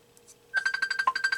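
An incoming call rings on a computer, a fast, bright electronic warble of rapid repeated pulses starting abruptly after a brief quiet moment, close and clear with no talk over it.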